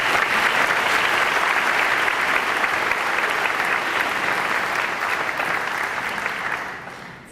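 Sustained applause fills a hall for students standing at the Bay City Central senior awards ceremony, a dense, steady clapping from a large audience that tapers off in the final second.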